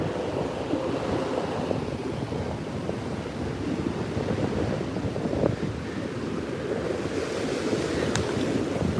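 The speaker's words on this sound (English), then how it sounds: "the wind is coming in" Steady wind gusts buffet the microphone at an outdoor stadium in Tokyo, a constant low roar like rushing surf that fills the whole span without a break.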